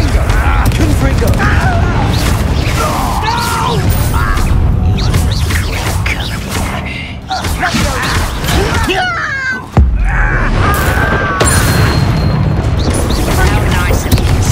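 Confringo fire spells from Hogwarts Legacy go off as loud booming blasts amid constant combat noise, with several heavy impacts and a sharp burst near the middle. Characters speak and shout over the fight.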